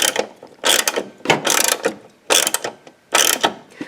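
Ratchet cranking down a car battery hold-down clamp on worn threads: five close, loud bursts of rapid clicking, each lasting about a third of a second, separated by short pauses.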